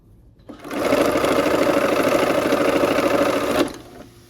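A sewing machine stitches quilt blocks together on a 1/4 inch seam in one steady, fast run of about three seconds, close and loud with no talk over it.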